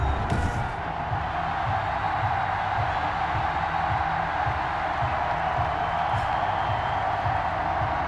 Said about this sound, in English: This crowd is ready as their guys get set to match up between the New England Patriots and the Seattle Seahawks.